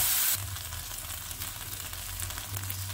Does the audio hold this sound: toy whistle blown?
no